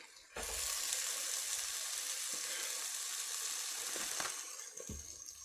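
Kangaroo steak sizzling on a hot sandwich press, a steady loud hiss that starts abruptly, holds for several seconds and then eases slightly, with a few faint clicks.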